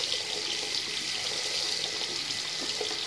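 Hot water runs loud and steady from a kitchen tap through an LED faucet filter, a constant close-up hiss and splatter into the sink with no pauses.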